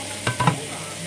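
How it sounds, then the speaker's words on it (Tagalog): Eggplant for pinakbet frying in a pan and being stirred, giving a few quick scraping strokes over a steady close sizzle in a short burst. "Haluin ko na guys, saglit."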